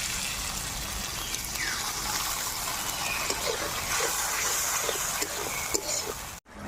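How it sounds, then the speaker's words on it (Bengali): Water is poured into a pan of fried spices for a fish curry, a steady rushing splash and trickle that stays close and even, then cuts off abruptly near the end. "এখন আমি এর মধ্যে জল দিয়ে দেবো।"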